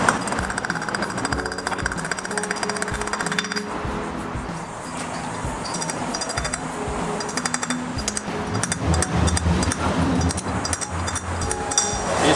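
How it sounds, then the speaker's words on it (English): Rapid metallic tapping from a hammer driving a wheel bearing race into a boat trailer hub repeats steadily and close by, sharp clinks ringing over a busy, clattering background. "keep tapping it in, and then you will hear when your taps change, it becomes more of a thump."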